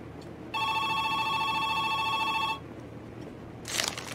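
A telephone rings in the video game Joe's Diner on PS4, a steady electronic ring that lasts about two seconds and then stops. A short, noisy rustle follows.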